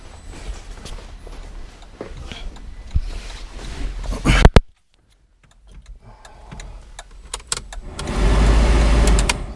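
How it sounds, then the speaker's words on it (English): Heater blower fan in a Mk1 Caddy V6 4motion: a steady whooshing hum inside the cab, briefly cut off, then returning and growing louder and fuller toward the end. "Blowers work."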